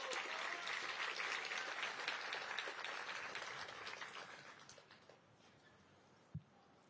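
A room at a triathlon pre-race press conference applauds Paula Finley; brisk clapping starts full and gradually thins out, fading to a few scattered claps near the end.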